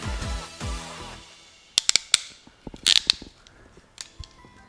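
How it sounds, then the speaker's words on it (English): Ratcheting crimpers closing on wire connectors during wiring work: a burst of sharp, close clicks and a quick ratcheting rattle mid-clip, then a few scattered softer clicks, with no talking. "These ratcheting crimpers, I don't know how I did this kind of stuff without them before."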